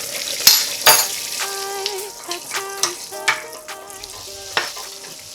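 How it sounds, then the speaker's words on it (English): Vanilla poured into hot caramel off the heat for keto salted caramel nut brittle sends up a close sizzling bubble, with sharp spoon and pan clinks and tonal ringing over a quiet background. "I'm going to add a teaspoon of vanilla, and I'm doing this off the heat because this is going to bubble up"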